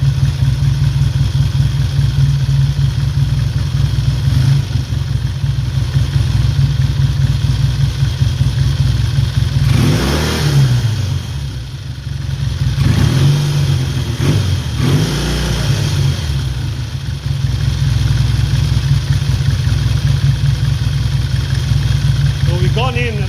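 A 1968 Triumph T100C motorcycle engine with a sticking throttle cable idles steadily close by, then revs up twice in quick succession before settling back to a lumpy idle.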